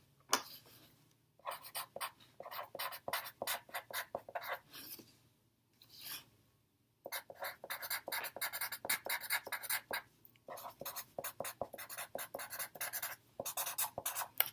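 Students writing opinions on paper in a classroom: soft, close scratching of pens or pencils in quick repeated strokes, arriving in bursts with a few short quiet gaps.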